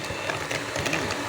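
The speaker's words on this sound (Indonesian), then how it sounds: "Kita kocok menggunakan mixer sampai lembut." An electric mixer beats cream cheese batter for steamed cheese brownies, giving a steady close whirring drone throughout a short stretch with no voices.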